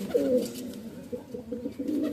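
An Andhra Kalanka pigeon coos up close, a loud low rolling call at the start followed by softer repeated coos through the rest.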